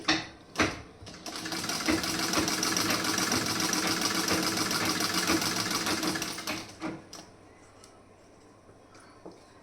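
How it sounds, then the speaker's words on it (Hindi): A sewing machine runs a double line of stitching along a seam in one continuous, loud whirring stretch, then stops, leaving a few mechanical clicks and knocks. "इस तरीके से इस साइड में भी आप सिलाई डबल सिलाई आप लगा देंगी।"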